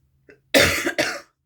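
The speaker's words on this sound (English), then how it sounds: "I'm gonna say goodbye now before I really start coughing" A person coughs hard twice in quick succession, close and loud, after a small throat catch, then silence.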